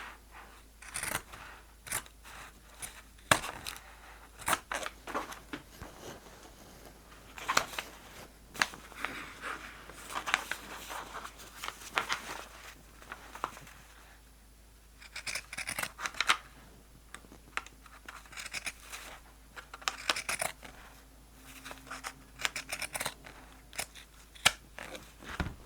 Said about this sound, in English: Then I'll just use my regular scissors and trim off this side with a straight edge.